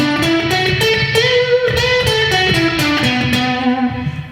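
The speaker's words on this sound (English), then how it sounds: "If your guitar solos sound like this," Electric guitar solo with an effects-driven tone, a quick run of bright sustained notes that bend and shift pitch, played loud and steady with no voices.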